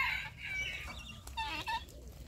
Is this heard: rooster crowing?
yes